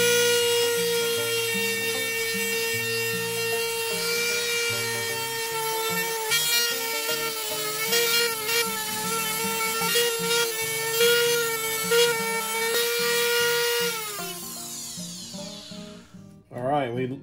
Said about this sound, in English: I just use a Dremel with a drum sander.